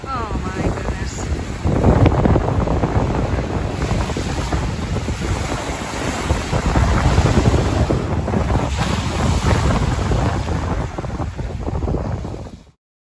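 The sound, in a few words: strong wind at the beach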